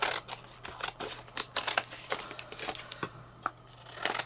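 Scissors snipping around a die-cut card shape for a spring-themed craft project, giving a quiet, irregular run of short crisp snips and paper rustles close by, with no talking.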